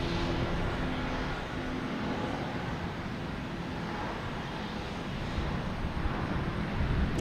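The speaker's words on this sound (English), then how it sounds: "A330 heading to Heathrow." An Airbus A330 airliner bound for Heathrow at Boston Logan Airport produces a steady, broad engine roar that holds evenly throughout, heard from a distance without talking.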